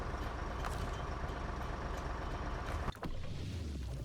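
A heavy truck engine from the SnowRunner game drones steadily in a low rumble, with a brief hiss or clunk near the end before the idle settles deeper.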